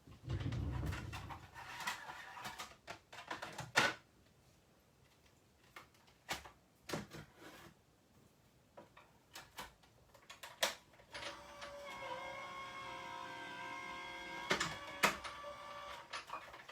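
A home craft machine runs a pattern through, giving scattered sharp ticks and clicks, then a steady whirring hum with more clicks toward the end, fairly quiet and close, with no speech.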